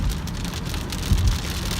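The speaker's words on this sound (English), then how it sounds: "oh no, the rain's coming back" Steady rain pours onto surfaces during a summer flood, a dense hissing patter with a brief low rumble partway through, no voices.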